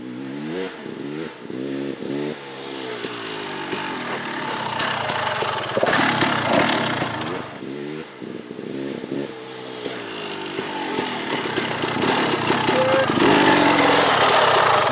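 Dirt bike engine on an enduro trail revving and surging as the rider brakes hard into a front-wheel stoppie, locking the front tire; a steady loud engine drone with rising and falling pitch, with speech from the rider mixed in.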